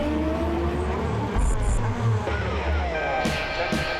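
Race cars roar around the street circuit at the 59th Macau Grand Prix, a loud continuous engine drone with shifting pitch as cars pass, while a narrator talks over the noise.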